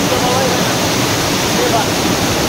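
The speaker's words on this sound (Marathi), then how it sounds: "हा इथून धबधबा" Loud, continuous roar of the Chorchavdi waterfall at Dahivad, Deola, close by and unbroken, filling the whole stretch with dense hissing rush.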